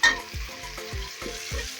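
Capsicum sizzles in hot oil in a pan for egg dum biryani, a steady close frying hiss with regular scraping thumps of stirring.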